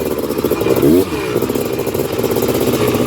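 A fully built Honda TRX330R quad engine revs and drones steadily in second gear on a tight, technical trail, a loud continuous mid-pitched roar with a brief rise and dip in pitch and no speech over it.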